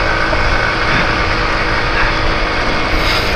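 Yamaha Mio scooter engine revving steadily as the rider accelerates on an outdoor ride, a continuous loud drone with wind noise and no pauses.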